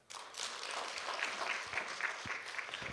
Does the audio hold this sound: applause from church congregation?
yes